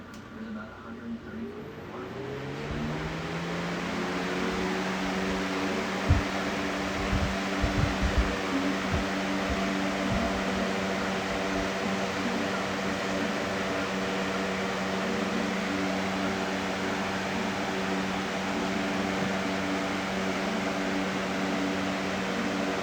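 A Lasko box fan hums up to speed as its startup capacitor kicks in, settling into a steady, loud motor drone and airy whoosh with a few brief knocks early on.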